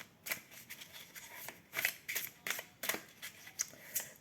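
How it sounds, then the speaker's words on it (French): Tarot cards being drawn and handled, with crisp papery swipes and snaps in an uneven rhythm of about a dozen strokes, close and fairly clear with no talk. "Je prends une dernière carte."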